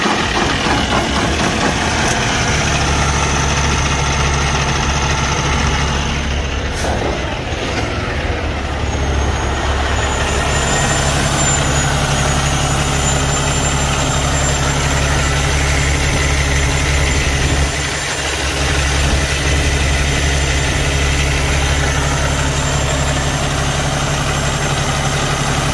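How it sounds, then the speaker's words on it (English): A Cummins ISX diesel truck engine with a head gasket compression leak into the coolant idles steadily after its coolant was drained, a loud, even low rumble running throughout with no talk. "after that the engine ran, as you can hear it"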